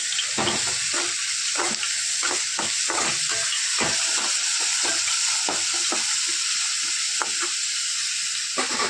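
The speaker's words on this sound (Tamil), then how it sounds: "நம்மளோட கீரை பொரியலுக்கு நம்ம சீரகம் எல்லாம் போட்டோம்." Cumin seeds frying in hot oil for a Tamil spinach stir-fry (keerai poriyal), a steady close sizzle with scattered sharp pops and stirring clicks throughout, no talking.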